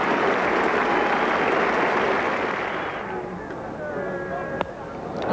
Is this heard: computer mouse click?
no